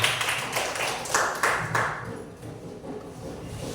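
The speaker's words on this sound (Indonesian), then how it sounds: "Tepuk tangan untuk kita semua." A small group at a school session claps in loose, uneven bursts for a couple of seconds, then the clapping thins out and fades into quiet room noise.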